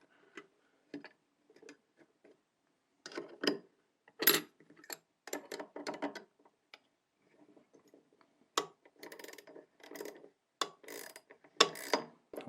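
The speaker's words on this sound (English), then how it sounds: "we're going to take these bolts and we're just going to tighten" A wrench snugs bolts on an ammo auto drive for a Mark 7 Apex 10 reloading press, giving faint, close, intermittent ratcheting clicks in short clusters separated by quiet gaps.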